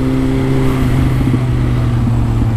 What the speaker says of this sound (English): It sounds like a fucking race bike.